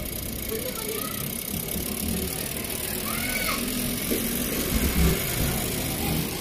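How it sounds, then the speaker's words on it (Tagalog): The compressor of an LG smart inverter air conditioner runs with a steady, dense mechanical hum and faint rattling. It is continuous and fairly close. "gumagana naman ho yung ating compressor"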